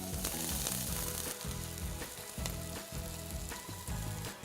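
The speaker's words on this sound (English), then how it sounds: "Woo, watch that sizzle." Red onion sizzles in a Dutch oven, giving a quiet, continuous frying hiss with soft rhythmic music underneath and no speech.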